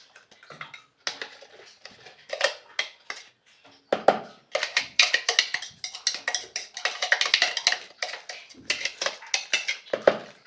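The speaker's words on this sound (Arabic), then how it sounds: "وهنبتدي نقلبها كويس لحد ما تطلع اللحمه" Minced meat and onion stirred in a pan for hawawshi filling: irregular clinks and scrapes of a spoon against the pan, in quick rhythmic bursts with short pauses, close by and with no voices.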